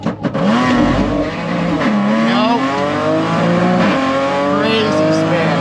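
2012 Audi S4 spinning its wheels, a loud close tire squeal with a wavering pitch over a revving engine, lasting several seconds without talk.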